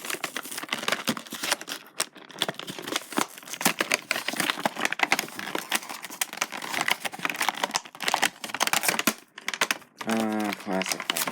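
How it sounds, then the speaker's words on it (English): A Star Wars Black Series Luke Skywalker figure being freed from its packaging, with a dense run of crinkling plastic, tearing and snapping cardboard handled close by, ending with a brief spoken remark. "let's get them out of this packaging."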